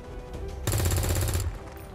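Rapid automatic gunfire rattles in XCOM 2, a loud burst of closely spaced shots lasting under a second over steady background game ambience.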